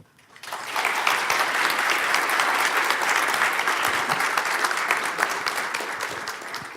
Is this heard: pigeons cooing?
no